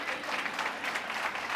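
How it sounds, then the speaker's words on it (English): Audience applause at a 2026 State of the City address in Whitehall, a steady even patter of many hands clapping at moderate level for the full short stretch, with no voices over it. "You can clap on that."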